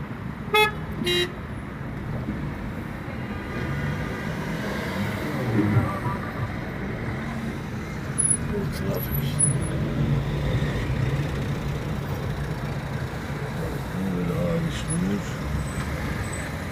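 Heavy road traffic streams past at a busy junction near a bridge in Adana, a continuous roar of cars and buses, with short car horn toots near the start and scattered later.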